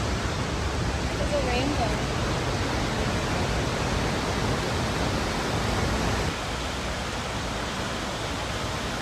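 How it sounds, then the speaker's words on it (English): Havasu Falls roaring nearby, a dense, constant broadband rush of falling water that fills the scene at steady loudness, with a brief spoken remark faintly heard over it. "I believe this is Havasu Falls, which is the first kind of major waterfall on this hike"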